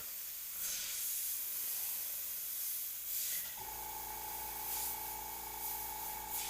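An airbrush sprays paint on a custom paint job, darkening two sockets, with short soft hissing bursts; a steady low hum sets in partway through, and the whole is quiet and close.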